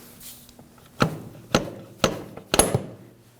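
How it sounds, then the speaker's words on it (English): Splines of a CV axle being pushed into the transmission of a Subaru XV Crosstrek 2.0L H4, four sharp metallic clunks spaced about half a second apart, close and fairly loud over a quiet background. "Once it's set in, give it a few more pushes and you'll feel it set in all the way."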